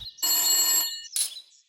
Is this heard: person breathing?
no